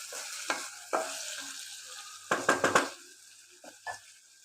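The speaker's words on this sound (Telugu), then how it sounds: "బాగా ఫ్రై చేసుకోవాలి." Chicken frying in a kadai, with intermittent stirring scrapes and clinks of a utensil against the pan over a soft sizzle, loudest in a quick run of strokes midway through.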